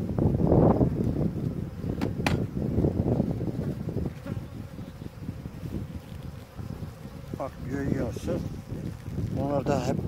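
Honey bees buzzing around an open beehive during hive inspection, a dense close hum with individual bees droning past the microphone, under someone talking in Turkish and some wind noise.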